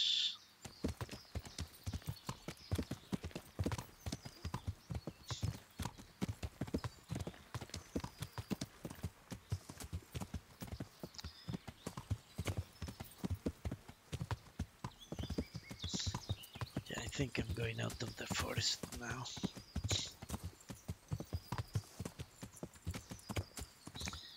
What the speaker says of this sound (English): A grey horse.